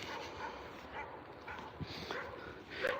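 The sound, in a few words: dogs whimpering and yipping on a walk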